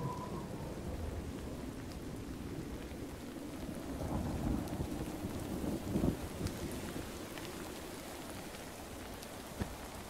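Steady rain with rumbling thunder fills a Minecraft thunderstorm, a dense hiss with a low rolling rumble swelling toward the middle, faint and continuous, with no voices.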